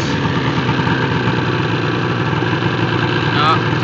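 A 2007 Ski-doo Rev snowmobile engine idles loudly and steadily up close, a continuous rumble with no breaks.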